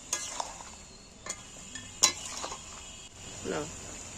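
Fried fish pieces laid one by one into a spicy gravy and stirred, with sparse clinks of a utensil against the pan, a soft sizzle and scraping between the taps.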